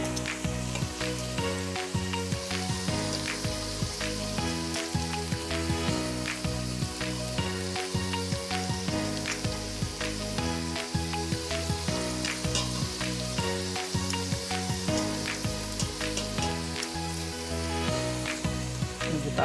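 Pork searing in a pot over high heat, giving a loud, steady, dense sizzle and crackle with no break, close up and with nobody speaking.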